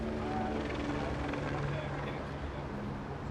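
Helicopter near a boat in the Kimberley gives a steady, close rotor and engine drone, rumbling continuously and fairly loudly for the whole stretch.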